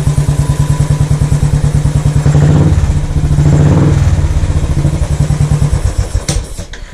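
A Royal Enfield Classic 500 motorcycle fitted with a Race Dynamics unit idles on a cold morning while warming up, with a loud, steady, thumping single-cylinder beat close by and a brief rev swell midway.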